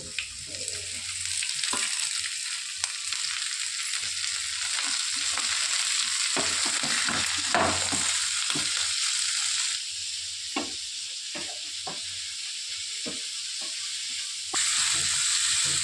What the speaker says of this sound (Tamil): நல்லா இப்படி வதங்கணும் மாங்காய் வதங்கிறப்போ